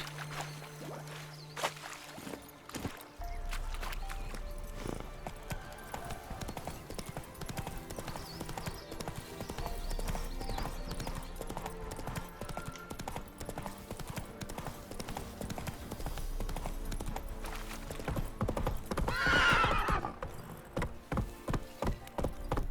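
Roach the horse in The Witcher 3 walks and trots with a steady clip-clop of hooves on ground, with game background sounds, a brief neigh toward the end and a short vocal interjection.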